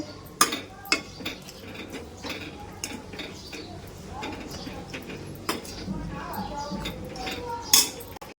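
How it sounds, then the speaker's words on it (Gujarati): Dates being stirred in a pan for khajur pak, giving scattered metallic clinks and scrapes of a spoon against the pan, fairly close, under ongoing talk. "આ રીતે મિક્સ કરતું રહેવાનું છે જ્યાં સુધી આપણો ખજૂર પાક એકદમ નરમ ના થાય"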